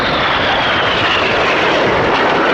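Red Arrows jets, the RAF aerobatic team's synchro pair, roar past at the Cosford Air Show 2025. The jet noise is loud and unbroken throughout, a dense close rush with no voices.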